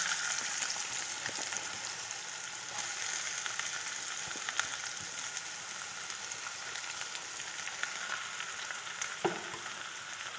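Onions sizzle steadily in a hot pan for an Indian-style macaroni pasta, a soft, even frying hiss with a few faint clicks of stirring, close but quiet.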